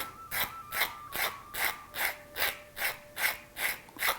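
Steady back-and-forth rasping of sandpaper on wood, about ten even strokes in a regular rhythm, close and moderately quiet.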